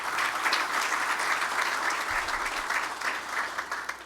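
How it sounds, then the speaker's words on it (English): A large banquet audience at an awards dinner claps steadily and densely for the whole stretch, a loud, even wash of applause with no pause. "Let's give them another round of applause."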